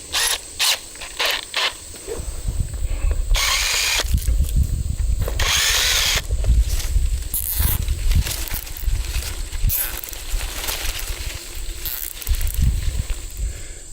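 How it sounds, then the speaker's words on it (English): A power drill boring holes through vine scrapes in bursts, loud whining runs of several seconds separated by short pauses, with clicks and handling noise between and a long continuous drilling stretch in the middle. "So I'm going to drill a hole in them and then run the zip tie through them."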